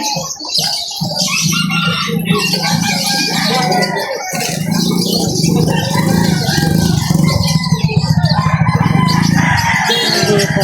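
Chickens cluck and fuss close by at a busy, noisy pet market, with a rooster crowing among them.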